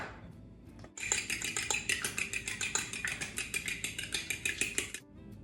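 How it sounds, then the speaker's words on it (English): A fork scrapes and clinks steadily against a bowl while icing sugar and egg are stirred together, a close, fast, rhythmic tapping and scraping that runs for about four seconds with no one speaking. "Just mix that around with a fork."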